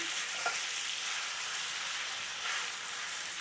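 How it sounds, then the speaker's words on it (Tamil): Steady frying sizzle from a pan as onions or aromatics are stirred and sautéed on low heat for white chicken kurma, a constant bright hiss with no talk. "இது போட்டு நல்லா கலந்து விட்டுக்கலாம். சிம்லேயே வச்சு செய்யுங்க, தீய விடாதீங்க"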